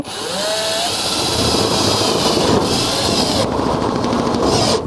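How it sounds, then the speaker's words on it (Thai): A power screwdriver drives a screw through metal roof sheeting into the steel beneath, a loud, steady motor whine with grinding friction that holds for several seconds. "ใส่ น็อตลงไปแบบนี้นะครับแล้วก็ค่อยๆยิงไป"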